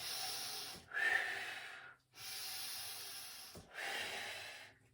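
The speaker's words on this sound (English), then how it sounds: "Breathing it all the way down." Close, steady breaths in and out, each long airy exhale followed by a short pause, repeating in an even, controlled rhythm.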